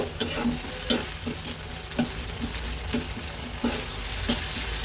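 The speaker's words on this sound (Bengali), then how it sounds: "কাঁচামরিচ কুচি রসুন কুচি একটার মতো তেলের সাথে নেড়ে চেড়ে ভালো করে মিশিয়ে নিব" Chopped green chilli and garlic fry in oil with a steady sizzle while a utensil stirs them, scraping the pan in repeated sharp knocks about once a second. No voices.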